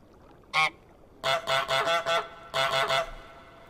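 Cartoonish goose honks from Untitled Goose Game, set in the garden: one lone honk, then a quick run of five and a later burst of four, loud and close with quiet gaps between.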